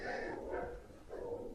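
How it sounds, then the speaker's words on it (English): Dogs bark in a few muffled, distant bursts over steady background noise, with no talking during the barks. "the dogs are at it again."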